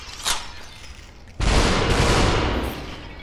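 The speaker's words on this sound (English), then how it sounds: "Oh, he's shooting at me." Enemy gunfire in the VR game Superhot VR: a short shot early on, then a loud, sustained burst of gunfire lasting over a second before it tails off.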